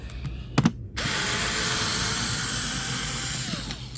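Power tool working a hidden bolt on a Range Rover Sport HSE dashboard during heater core removal: a couple of short ratcheting bursts, then a loud, steady whirring drone close up with no talk.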